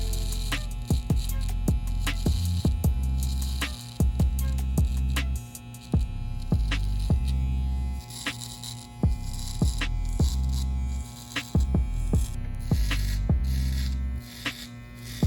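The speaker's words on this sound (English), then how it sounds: "The rest of the hair we cut it using the trimmer." An electric hair trimmer hums steadily up close during a bald fade haircut, its buzz rising and dipping in short repeated passes as it moves over the head.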